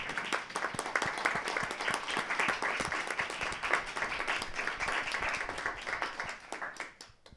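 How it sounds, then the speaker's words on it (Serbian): An audience at a public forum on resisting evil applauds students and high school students, sustained steady clapping from many hands filling the room at even loudness before easing off at the end. "ako možemo jedan aplauz za studente i srednjoškolce"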